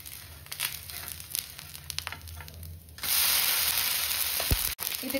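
Dosa batter frying in a little oil on a hot pan, a steady crackling sizzle that suddenly grows louder and brighter partway through, with a brief dropout near the end, no talking.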